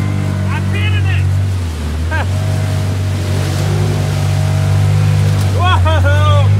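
Can-Am Maverick X3 side-by-side at full throttle in a mud race, a loud sustained engine drone close up, with excited shouting voices over it.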